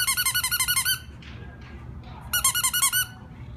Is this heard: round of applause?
no